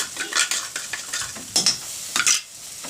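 Wet coconut paste with chopped onion and garlic being sautéed in a pan, giving soft sizzling with a few louder scraping stirs of a spoon in bursts, close by and without voices.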